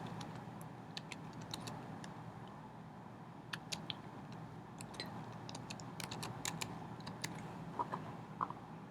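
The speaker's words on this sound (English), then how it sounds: "And then you need to type in the capture text." Captcha text typed on a computer keyboard during a free web-hosting sign-up, heard as scattered light key clicks in short bursts over a steady low room hum.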